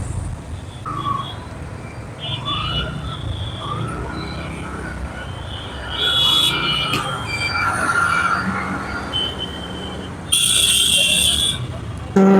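A train rolls past in rainy weather near Khilgaon, Dhaka, its wheels squealing sharply against the rails in loud bursts over a steady rumble of cars.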